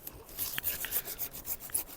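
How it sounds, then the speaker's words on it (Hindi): A hand saw cuts through an apple tree branch in a Manali orchard, making quick rhythmic rasping strokes. The sawing is close and steady, with no talking. "तो जिसमें मैं आरी लगाने जा रहा हूँ यहाँ पे पीछे देख लीजिए"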